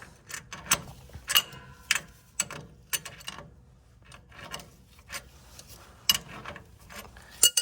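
Metallic clicks and ratcheting taps from an adjustable wrench working loose the drain plug on a Model A Ford, a string of sharp, close, irregular knocks and scrapes with short quiet gaps between them.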